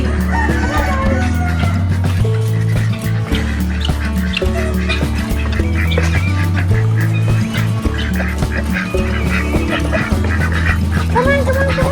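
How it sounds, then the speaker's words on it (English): Ducks quack at feeding time among other farm fowl, with guineas and a crowing rooster nearby, dense overlapping calls filling the whole stretch while a person talks over the flock. "Look at the ducks."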